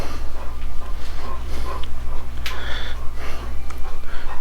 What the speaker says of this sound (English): Oh, there's my dogs. Here's my puppies.